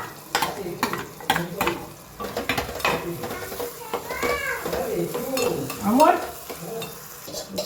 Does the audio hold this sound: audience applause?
no